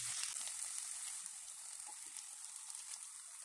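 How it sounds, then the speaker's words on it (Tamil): Capsicum, tomato and coriander fry in a pan with a steady, bright sizzle that holds level throughout, close and alone with no talking. "கொத்தமல்லி ஆட் பண்ணிவிட்டு 1 மினிட்டு ஃப்ரை பண்ணிக்கிறேன்."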